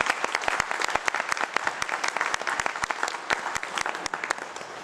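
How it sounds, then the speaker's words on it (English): An audience at a vocational education event with candidate Mike Pence breaks into applause, a dense crackle of many hands clapping steadily for about five seconds. "Could you give them a round of applause?"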